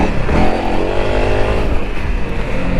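Honda CRF300L Rally motorcycle engine on urban off-road ground, a close, steady, loud engine drone with slight rises in revs throughout.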